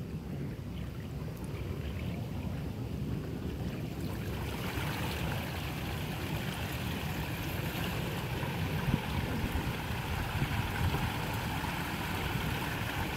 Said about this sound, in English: Alexa, turn on the waterfall.